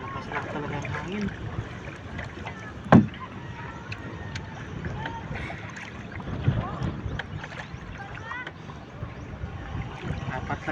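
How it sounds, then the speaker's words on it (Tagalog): Strong wind buffets an outdoor scene at the water while fishing from a small boat, a steady broadband rush with gusts throughout, one sharp knock near the start and a lesser one later, plus faint voices. "Lakas lang talaga ang hangin."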